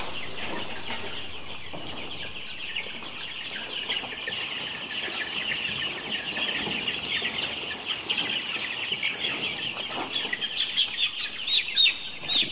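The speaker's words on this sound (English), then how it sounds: "That's a chicken." A Welsummer hen in a backyard pen clucks steadily with soft, repeated, fairly close calls over a continuous hiss of outdoor noise, with no talking.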